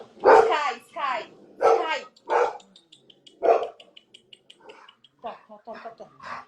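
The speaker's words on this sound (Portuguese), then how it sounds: "agora eu esqueci dessa parte dos cachorros que poderia acontecer" Dogs bark in a home setting, several sharp close barks in a row followed by softer yips and whimpers, with people talking nearby.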